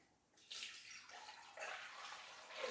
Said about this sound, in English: We're going to put a litre of full cream milk.